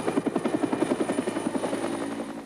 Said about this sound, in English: The military helicopters came out.